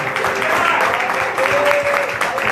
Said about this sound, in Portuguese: Aplauda, amados, aplauda porque é para Ele.